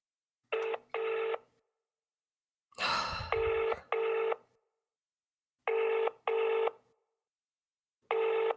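Telephone keypad tones for a prank call, played in quick pairs and groups of beeps separated by silence, with a brief burst of noise partway through and no speech.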